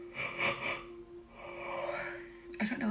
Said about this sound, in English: Let me yawn again.